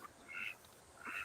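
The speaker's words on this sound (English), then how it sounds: "So we got 5 khaki Campbell ducks, 1 male Drake that we call Ike" Khaki Campbell ducks resting under garden bushes give two faint, short quacks, spaced about half a second apart.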